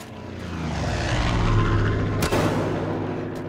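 Propeller airplane flying overhead in the video game Far Cry 5: a loud, continuous engine drone that swells and holds, broken briefly by a sharp thud partway through.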